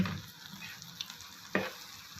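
Egg kothu parotta sizzles steadily in a hot pan as it is stirred and turned, with a sharper scrape or clatter of the spatula near the end; close and fairly quiet, no voices.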